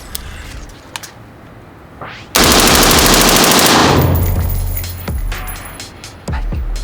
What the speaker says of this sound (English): we're gonna show you just how well this vents on full semi-auto.